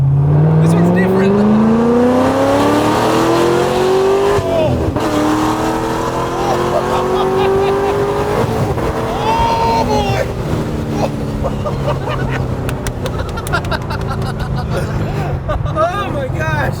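A Corvette accelerates hard, its engine note climbing steeply through rising revs, dropping briefly at gear changes and climbing again, loud and close from inside the car while an excited voice exclaims over it.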